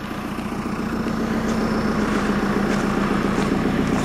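A tractor engine idling close by, a steady low rumble with a rattling edge that carries on evenly throughout, with no voices.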